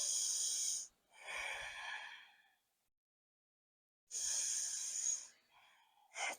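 Deep breathing during a yoga pose, heard as two long, close, airy breaths, each a hissing inhale or exhale lasting a couple of seconds, separated by silence.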